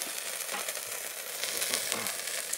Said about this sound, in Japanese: ジュージュー言うね。